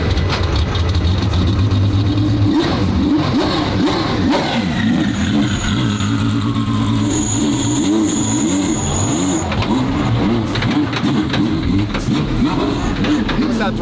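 A twin-turbo V12 Ferrari on its first shakedown drive, engine droning and revving loudly and continuously with rising and falling pitch, close up, with people talking and exclaiming over it.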